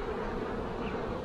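Honeybees fill a hive super, giving a steady, dense buzz that stays level and close throughout, with no talk over it.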